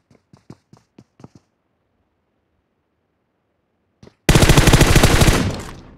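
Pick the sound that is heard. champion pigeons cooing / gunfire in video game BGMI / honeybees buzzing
gunfire in video game BGMI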